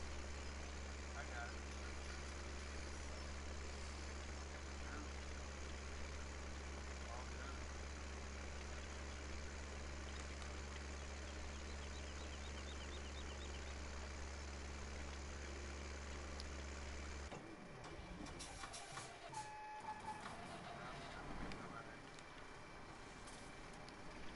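A tractor engine in the Mustang Valley multiplayer game idles with a steady low drone, then cuts away into mixed clatter and lighter noise, with people talking over it.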